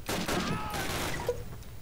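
M1 Garand rifle fire in the World War II shooter Call of Duty: a short burst of sharp, close shots in quick succession, fading into a softer tail.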